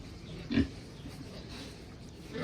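Pigs on a farm give a single short, quiet grunt against a low background hum.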